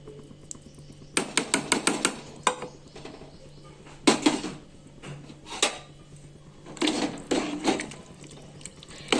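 Boiled dal tipped into a pot of tamarind rasam for pappu charu, with a run of wet splashes and clattering knocks against the pot in separate bursts, close by and without talk.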